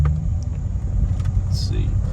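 Chevrolet Corvette C6 V8 engine, a deep steady low rumble close by from the car, not climbing much, with a voice speaking over it.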